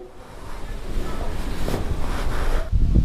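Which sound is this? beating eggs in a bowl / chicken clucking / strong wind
strong wind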